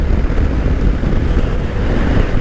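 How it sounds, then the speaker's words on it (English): Strong wind buffets the microphone on a motorcycle camping trip in South Australia, a steady, heavy low rumble that roars continuously with no pauses. "today is a little bit on the windy side"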